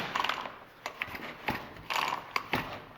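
A Husqvarna 40 chainsaw's recoil starter is pulled to check compression. It gives a few close, ratcheting, mechanical pulls at uneven intervals, each a short rasping burst, with no talk.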